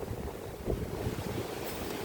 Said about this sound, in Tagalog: lakas kasi ng hangin idol